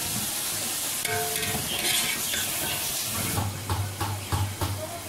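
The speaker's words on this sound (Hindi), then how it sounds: "चिकन को अच्छी तरह भून लेंगे।" Chicken fries in a pot for yakhni pulao and is stirred, giving a loud continuous sizzle and hiss broken by rhythmic scraping strokes of a spoon against the pan toward the end.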